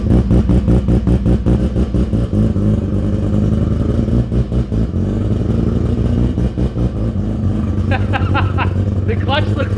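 A Mazda RX3 with a 13B rotary engine and a large muffler idles after a cold start, throbbing loudly and close in a rapid, choppy pulse, with people talking over it.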